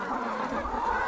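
Meat chickens clucking nearby in a brief burst of soft, low repeated clucks over a steady background hum.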